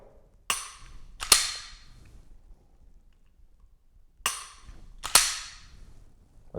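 Pistol trigger clicks during dry fire practice with a Mantis X10 Elite training system come as four sharp, close snaps in two spaced pairs, separated by quiet stretches.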